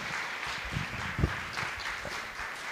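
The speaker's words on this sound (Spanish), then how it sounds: "la recibimos con un aplauso" Audience applause at a church gathering marking International Women's Day, a steady, moderately loud patter of clapping with a few heavier low thumps mixed in.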